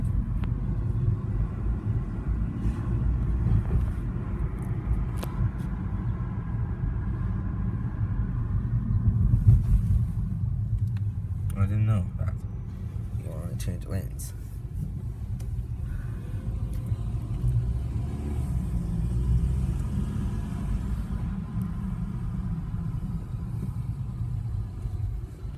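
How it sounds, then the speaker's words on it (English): Street traffic passing outside a tall hotel building, a continuous low engine rumble with vehicles idling and moving by, a few brief mechanical clanks in the middle, no talking. "So much traffic today."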